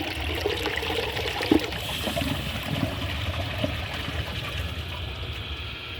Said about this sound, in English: let's give it a flush and see how it does on the tests